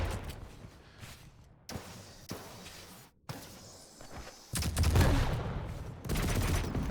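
Gunfire from a Quake duel video game: rapid bursts of shots and sharp fusillades break up quieter stretches, growing louder and denser toward the end, with no clear speech.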